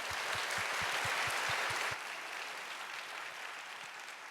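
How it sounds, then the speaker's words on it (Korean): A church congregation claps to welcome newly baptized members: a burst of applause with distinct sharp claps that fades after about two seconds into a softer, scattered patter. "우리 인사하실 때 큰 박수로 환영해 주시기를 바랍니다."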